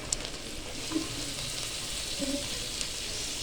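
Shredded cabbage and vegetables sizzling in a pan with garlic, ginger and onion for mini samosa filling, a steady soft hiss with faint stirring clinks, no voices.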